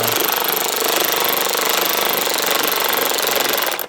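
A metal nut on a Honda battery tie-down is tightened with a loud, rapid mechanical hammering that pulses steadily up close for about four seconds, then stops.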